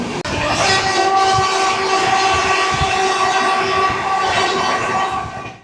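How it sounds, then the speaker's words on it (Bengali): Howrah–Puri Shatabdi Express picking up speed, a loud continuous rumble of rail wagons with clattering wheels and a sustained horn blast ringing through most of it, close and without talk, fading at the end. "শতাব্দী হালকা স্পিড নিয়ে নিয়েছে"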